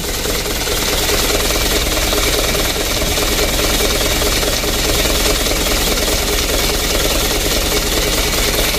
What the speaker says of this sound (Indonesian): Kita perhatikan guncangan mesinnya teman-teman.